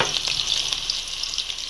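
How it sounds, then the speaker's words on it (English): Onions and garlic sizzle in about five tablespoons of hot oil in a pan, a steady crackling hiss with small spitting pops throughout and no voices. "toss in my onions and bandana to go ahead and fry up"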